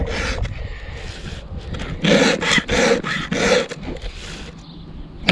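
Flat file rasping across a chainsaw chain's teeth in short bursts of stroking, close and fairly loud, with brief pauses between strokes and no talk.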